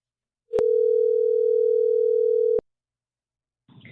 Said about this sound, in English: So this is you, Kellie and Luis, making a phone call.